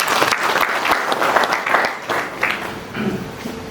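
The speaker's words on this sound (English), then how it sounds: "Can you clap for yourself?" Loud, close clapping from a crowd at a business awards gala dinner in Kakamega, a dense burst of applause with uneven swells throughout.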